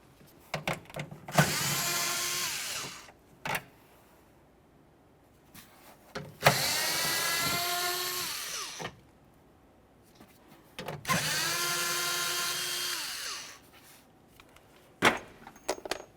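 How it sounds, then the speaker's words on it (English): Screws are backed out of a door speaker on a 2001–2005 Ford Explorer Sport Trac with a power driver, three separate whirring bursts of a few seconds each, close and loud, with short clicks and handling noises between them. "To get the speaker off of here, we're going to continue by removing 3 6mm headed screws"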